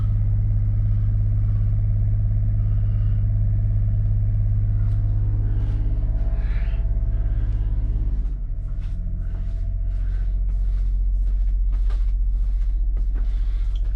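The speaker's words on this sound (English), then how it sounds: "currently running off the generator" An RV generator on a Tiffin Allegro Red 37PA motorhome runs steadily, a loud, constant low droning hum that shifts slightly in pitch partway through, with faint clicks and small noises over it.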